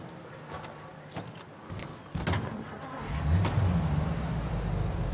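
A car driving in the video game Mafia: Definitive Edition, its engine rumbling low and steady and building louder toward the end, with a few thumps along the way.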